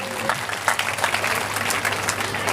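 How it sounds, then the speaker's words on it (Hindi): Audience applause after a folk song performance by a group of girls, a steady dense patter of many hands clapping for a few seconds, fairly close, with a faint murmur beneath. "एक बार जोरदार तालियां इन बेटियों के लिए।"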